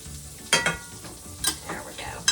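Unsalted butter gets scraped into a hot pan, heard as a soft sizzle broken by three or four sharp scraping strokes of a utensil against the container and pan.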